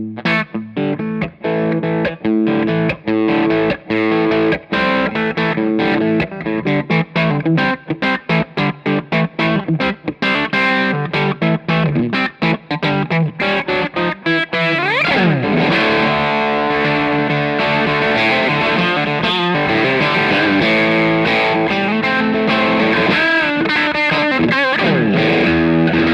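Electric guitar played through a Bad Cat Cub V 15 amp driven into breakup, loud and continuous distorted chords and riffs with sliding bends later on, no talking.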